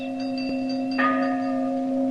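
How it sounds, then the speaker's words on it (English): A large bell like the historic Liberty Bell sounds with a deep, sustained hum and a fresh strike about a second in, loud and resonant with no voices. "And that's a sound similar to the historic ringing of the Liberty Bell in"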